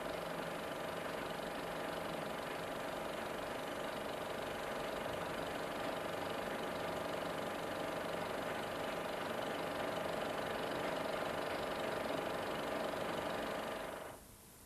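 Propeller aircraft engines roar without a break at a Pentecost weekend air show of World War I-era planes, a dense, loud, steady drone that cuts off sharply near the end.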